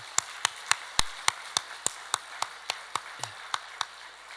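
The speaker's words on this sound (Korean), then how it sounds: "우리 하나님께 먼저 우리 영광의 박수 한번 드립니다" A church congregation claps in unison during a Sunday worship service, a steady run of about fifteen sharp, evenly spaced claps, moderately distant and alone without talk.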